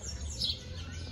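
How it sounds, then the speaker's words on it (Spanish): Small birds chirp briefly from a tree in San Ciro de Acosta, San Luis Potosí: a short, fairly faint twitter over a low outdoor hum. "se ven muy bonitos los pájaros"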